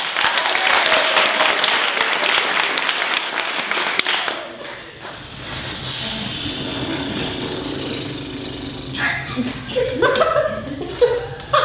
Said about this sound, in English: I throw one round of clapping